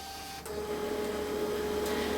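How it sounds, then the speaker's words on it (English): A Casio SES 2000 cash register printing its daily Z report, a steady close whirring and buzzing printer mechanism that starts abruptly and runs continuously, with no speech. "This will zeroize and print your daily reports."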